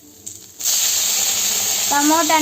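Chopped tomatoes tipped into a hot pan of fried onions, a soft clatter followed by a sudden loud, steady sizzle that keeps going, with a little scraping near the end.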